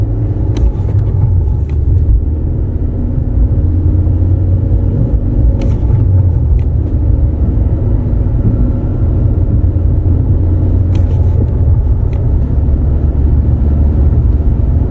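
A manual-transmission car is driven while the driver downshifts step by step, dropping to third and then second. It gives a loud, steady engine and road rumble from inside the cabin, with a few brief clicks and knocks and no talk.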